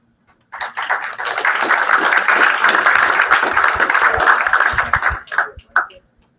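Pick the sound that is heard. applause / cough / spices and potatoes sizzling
applause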